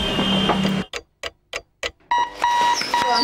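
Ticking alarm clock in an advert for a student alarm clock: a run of five evenly spaced loud ticks standing alone between music beds.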